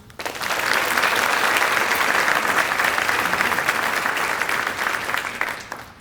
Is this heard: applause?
yes